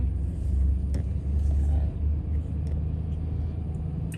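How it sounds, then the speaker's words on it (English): An Oldsmobile Cutlass passing on a road in Hernando, Florida, its engine a steady, deep rumble that swells and holds throughout, fairly close by. "Oh, look at that Oldsmobile Cutlass."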